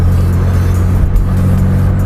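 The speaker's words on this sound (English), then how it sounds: "at the higher RPM and higher gears, you do get some kind of engine noise" An old car's engine revs loud and close, a dense, steady growl with a strong low hum, lasting about two seconds with no voices.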